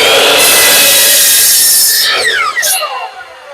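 A saw cuts the end off a wooden board up close, with a loud, harsh, raspy stretch of cutting that breaks into a few quicker strokes before it stops.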